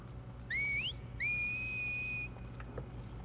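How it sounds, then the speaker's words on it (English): An enemy's signal whistle rings out in The Last of Us Part II, two rising, sustained tones, the second long and steady, standing clear over a quiet game background. "Every time I hear that whistle, it feels like I'm about to get shot with an arrow."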